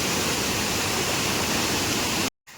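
Monsoon-swollen stream rushing with rainwater along a trail to a hill fort, a loud steady broadband roar that runs continuously, then cuts out abruptly for a moment near the end.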